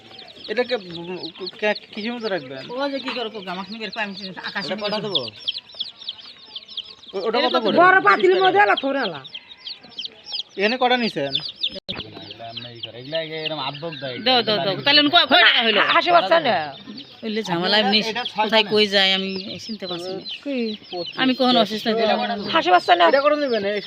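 Small baby chickens for sale at a market cheep constantly in a dense, high-pitched chorus, with people talking and bargaining over them throughout.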